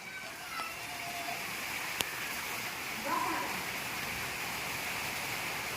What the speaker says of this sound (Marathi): अचानक मोठा असा रप्रप पाऊस सुरू झालेला आहे